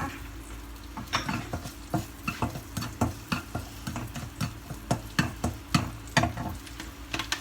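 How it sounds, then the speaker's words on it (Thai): Garlic stir-fried in a hot pan for a Thai shrimp-paste chili dip meal, with steady sizzling and a run of sharp, irregular scrapes and knocks of a utensil stirring against the pan, close up and without talk. "ทียมเข้าไปผัดให้หอมก่อนนะคะ"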